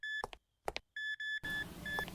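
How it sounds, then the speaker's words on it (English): Metal detector alert beeps in a virtual excavation video game: a series of sharp, high electronic tones in short and longer pulses, close and clear, interrupted by brief clicks and thuds, with background noise rising toward the end. "the metal detector plays a sound to alert us the metallic object is near us"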